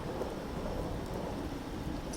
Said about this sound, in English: And the sounds of that